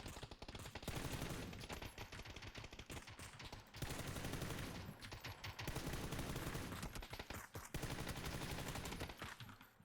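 Rapid automatic M4 rifle fire in PUBG, long sustained bursts with brief pauses between them, loud and close throughout.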